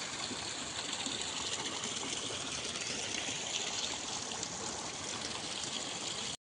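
Heavy monsoon rainwater rushes downhill in the Konkan, a dense, continuous broadband gush of flowing water close by that stays even and unbroken throughout.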